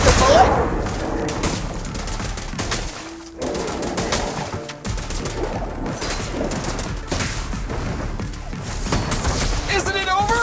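Gunfire in the game Zenless Zone Zero: bursts of rapid shots and impacts crackle over game music and effects, with short gaps, loud and busy, alongside character voices.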